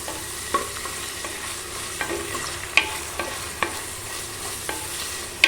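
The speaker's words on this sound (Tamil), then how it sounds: "வெங்காயம் நல்லா வதங்கி வரட்டும்." Onions and curry leaves sauté in a clay pot for chicken varuval, a constant low sizzle punctuated by occasional light taps and scrapes of a spoon against the pot, with no talking.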